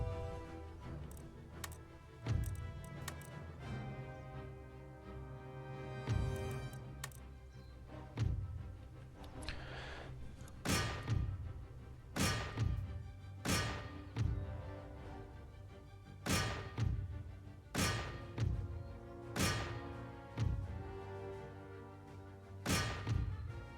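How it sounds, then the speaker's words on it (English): Cannon fire on an Empire: Total War battlefield, heard as a series of dull thumps and booming shots, sparse at first then coming in a steadier rhythm over a sustained musical background. "Shut the cannons off, that way it doesn't get too crazy."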